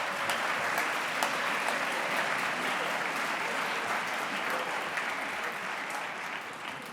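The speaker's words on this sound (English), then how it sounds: "please, to give yourselves a round of applause." Audience at a middle school fine arts festival applauding, dense sustained clapping from a large crowd that holds steady for several seconds and begins to ease off at the end.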